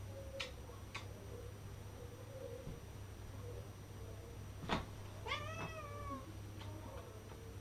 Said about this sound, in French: ce petit chat coquin, là, il miaule, il miaule, il miaule, il miaule